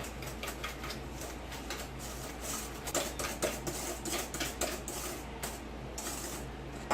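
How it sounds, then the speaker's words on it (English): White and brown sugar being whisked together in a bowl for chocolate marshmallow brownies, a steady run of light scraping clicks and metallic taps from the whisk, moderately close and continuous for several seconds. "And we're going to whisk these all together"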